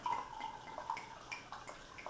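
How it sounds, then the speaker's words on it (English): Wine is poured from a bottle into a glass in a soft, brief trickle of liquid, faint and close, with a few gentle splashy accents and no speech. "And then let's pour our first glass of wine."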